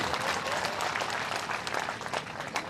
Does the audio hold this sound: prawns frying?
no